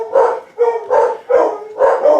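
Dogs bark loudly and close by in a quick series of four sharp barks with short gaps between them, heard with no voices.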